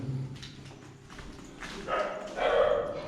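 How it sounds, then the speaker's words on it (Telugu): Dogs bark somewhat distantly outside a house at night, a few muffled yelps rising over low background noise. "కుక్కలు అరుస్తున్నాయి."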